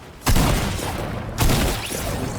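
Gunfire in Fortnite, two heavy loud bursts about a second apart, each a booming blast that trails off into a rumbling decay, with no talking.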